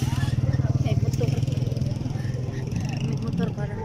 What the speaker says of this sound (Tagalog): May motor parang nasa Pinas.